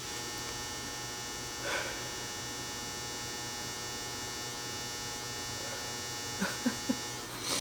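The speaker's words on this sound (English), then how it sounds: "That's the dryer." A clothes dryer runs with a steady mechanical hum and buzzing drone throughout, with a few soft knocks and thumps near the end.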